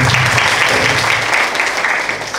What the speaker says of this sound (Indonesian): Tepuk tangan untuk anak-anak ini.